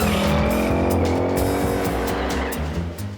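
A Ford Mustang in the Bullitt car chase squeals its tires hard, loud continuous screeching over a roaring engine, with sharp skids and no talking.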